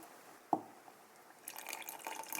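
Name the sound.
liquid poured for a gender prediction test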